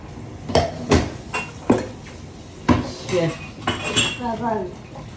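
Dishes and cutlery clink and clatter in irregular bursts, pots knocking now and then, close up with no talking.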